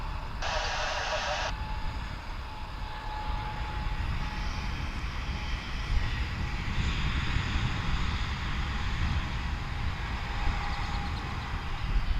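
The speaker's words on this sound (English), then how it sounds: "Korean Air flight still looking for its gate." At Dallas/Fort Worth International Airport, a Korean Air plane taxis while looking for its gate, its engine making a steady whining drone across the whole stretch, with a brief higher tone near the start.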